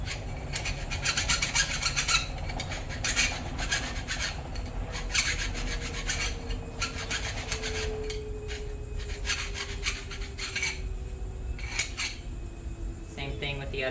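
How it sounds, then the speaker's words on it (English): A hand file scrapes burrs from the inside edge of cut aluminum or steel tubing while a fire whip is being made, delivering repeated close, raspy strokes in an uneven rhythm with occasional light metallic clinks. "I'm just filing off the insides so you just get rid of all those burrs"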